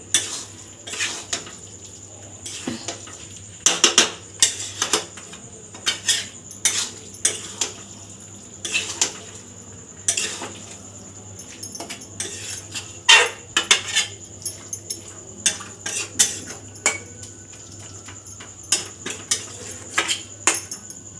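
Fish head dal being stirred in a metal pot, repeated clanks and scrapes of a spoon against the sides in an uneven rhythm, close and fairly loud over a low steady hum.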